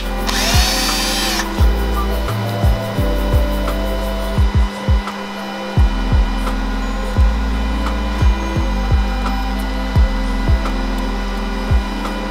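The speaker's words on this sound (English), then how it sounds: "we're going to use a drill bit that taps the threads into place." A power drill with a thread-tapping bit drives M6 Allen bolts during a car stereo install in a Ford Raptor, whining loudly and steadily up close with repeated short clicks and brief pauses between bursts.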